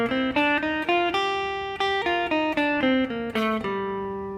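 Guitar picking a natural minor scale, single clear notes played one after another in an even rhythm, descending and ending on a held tone, close and alone.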